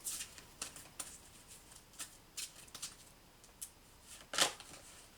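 A deck of Archangel oracle cards is shuffled and drawn up close, with quiet, irregular papery riffles and flicks, ending in one louder snap.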